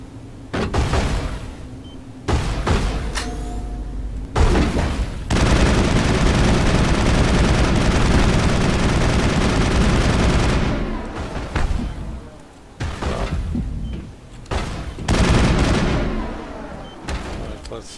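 Assault rifle fire in Mass Effect on Eden Prime crackles in loud rapid bursts, with a long sustained volley and short pauses between strings of shots.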